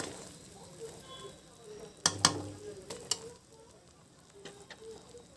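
Melted jaggery sizzles quietly and steadily in a pan, with a few sharp scrapes and clinks as it is stirred partway through.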